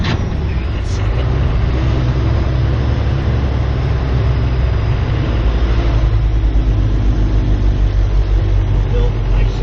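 A truck with a 1996 12-valve Cummins diesel engine, 314,000 miles, hauling a 37-foot camper and creeping uphill in first gear, gives a loud, steady low rumble that continues throughout with a slight swell near the end.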